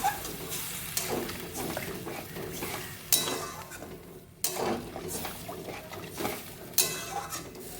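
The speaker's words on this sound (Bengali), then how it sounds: "গরম জলটা দিয়ে এবার ভালো করে মিশিয়ে নিচ্ছি" Spiced curry with ridged gourd and potato being stirred in a pot after hot water is poured in, a series of soft scraping and clinking spoon strokes with watery sloshing at a steady, moderate level, no talk.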